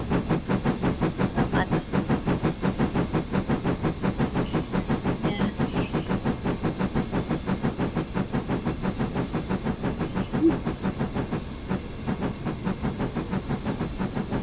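A King Arthur class N15 steam locomotive in Train Simulator chuffs in a fast, even rhythm of loud exhaust beats over continuous hissing steam, steady and close throughout.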